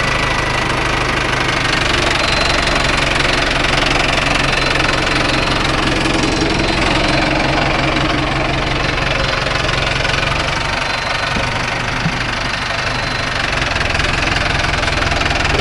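A Mahindra Arjun Novo 605 DI tractor engine runs loud and close without letup, a dense knocking diesel drone that holds steady throughout with no voices over it.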